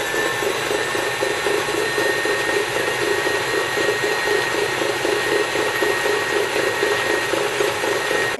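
An electric whisk beating eggs into sponge pudding batter in a mixing bowl, giving a continuous loud motor whir that holds steady throughout with no talking.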